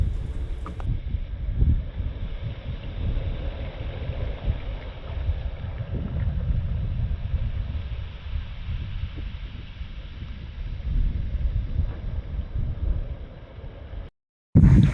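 Wind rushes steadily across a sailboat under sail with the engine off, heading from Great Keppel Island toward Cape Capricorn in Queensland, as a continuous close, gusty breeze buffets the microphone with low water noise beneath it and no talking.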